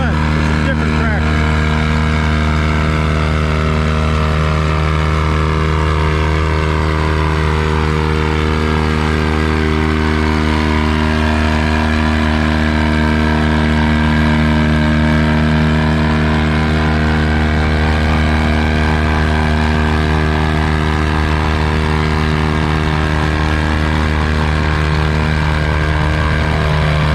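A John Deere 435 tractor engine labors steadily through a vintage tractor pull, its loud, continuous drone holding for the whole stretch with a voice speaking over it.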